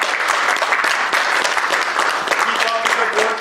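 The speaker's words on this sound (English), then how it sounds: "I'd like for all of us to give a round of applause to each other" A group of coworkers applauds one another after a speech, a dense, steady wash of clapping that stays loud from start to finish.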